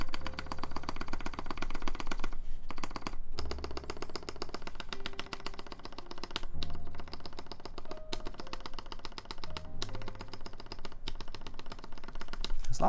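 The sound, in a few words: typing on a Noxary Vulcan Pro mechanical keyboard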